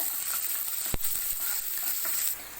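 Onions fry with dried red chillies in a pan for a black-eyed pea stir-fry, a close steady sizzle with one sharp knock from a spoon against the pan, no talking.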